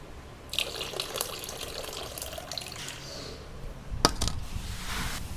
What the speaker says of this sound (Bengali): আমি এটাকে জল ঝাড়াচ্ছি দেখো